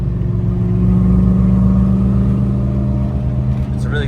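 An LS-swapped Fox Body running on E85 drones steadily from inside the car while driving, a loud low engine hum holding an even pitch throughout.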